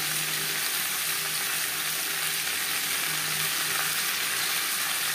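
Four small tomatoes go into a pan of potatoes frying in oil for a Bengali fish curry, and the pan gives a steady, loud, even sizzle throughout.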